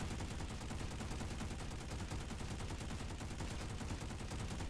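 Long sustained burst from the EM6 machine gun in the Planetside 2 video game, a dense rapid stream of shots held for the whole stretch at steady loudness, with no talking.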